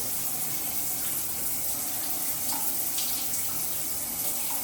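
Steady, loud hiss of a hotel shower running just after being switched on, a constant spray of water with no pauses and no talking.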